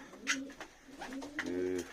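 Breeding pigeons coo inside a loft, several soft, throaty rolling coos overlapping at close range, with a longer, fuller coo toward the end.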